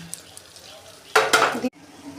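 Turmeric, coriander and Kashmiri chilli powder being stirred into masala frying in oil, a soft sizzle giving way to a burst of spoon scraping and clinking against the pan, then quiet cooking.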